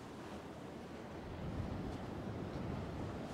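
Ocean surf rolls and breaks on a fishing beach, a continuous broad wash of waves with wind noise buffeting the microphone, swelling slightly midway and heard alone without talk.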